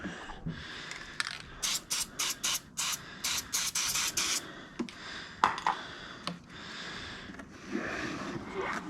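Short bursts of aerosol spray hiss in a quick series into a Lexus GX470 heater box during evaporator core replacement, then a few scrapes and clicks follow, with softer spraying later on.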